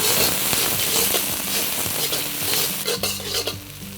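Scallions and celery sauté in a pan over low heat, a close, steady sizzle broken by repeated scraping and stirring strokes of a utensil against the pan for the full stretch.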